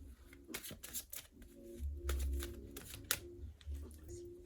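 Cards being shuffled in quick riffling bursts, close by, with a soft low hum underneath and no voices.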